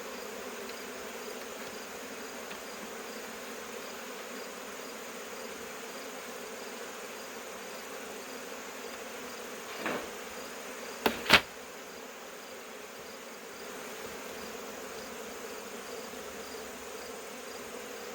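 A swarm of honey bees buzzes around an opened hive in a steady, moderate drone, broken near the middle by a couple of brief knocks.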